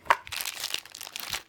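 Close, soft crinkling of plastic being handled, irregular rustles and crackles coming in quick bursts, fairly quiet, with no voices.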